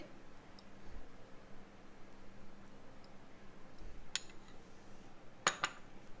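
Green mint-coriander chutney being stirred into makhana (fox nut) chaat, with soft clicks and a couple of sharp spoon-against-bowl clinks toward the end over a quiet background.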